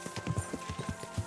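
Horses trotting in the medieval game Kingdom Come: Deliverance II, with a steady, close clip-clop of hooves repeating about every tenth of a second and no talking.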